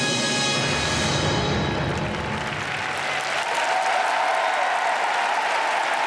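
An arena crowd applauds steadily and loudly for Mirai Nagasu of the USA after her free skate at the 2017 Rostelecom Cup figure skating event, a dense wash of clapping that fills the whole moment without letup.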